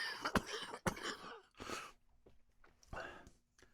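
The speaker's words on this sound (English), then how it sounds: "my throat is getting really close to coughing right now" A person coughs in a few sharp, close bursts after eating cannabis-infused food at a dinner, followed by throat-clearing, a gasp and breathy sighs in a quiet room.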